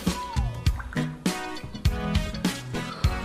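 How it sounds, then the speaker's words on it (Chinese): A toy shark blind-box bottle sits submerged in water, bubbling and gurgling with repeated splashy drips and plinks at close range, the bottle filling as air escapes. "这里面还在冒泡，我感觉水都快灌满了"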